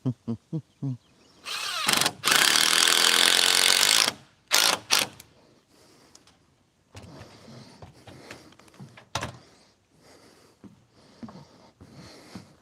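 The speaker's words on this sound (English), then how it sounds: "Let the drill do the work." A power drill whirs in short bursts, then drives hard into wood for about two seconds, followed by more brief high-pitched spins and fainter mechanical clicks at close range, with no talking.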